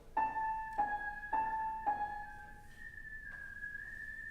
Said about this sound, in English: we talked about whistling half steps